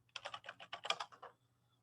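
About a dozen quick, close keystrokes on a computer keyboard as a password is entered, tapping in an even burst that stops after a second and a quarter, leaving near silence.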